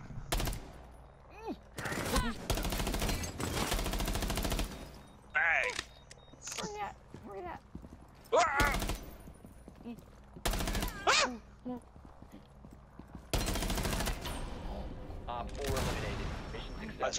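Bursts of automatic gunfire in Rainbow Six Siege, several loud rapid-fire volleys of varying length separated by short pauses, with people talking in between and over the shots.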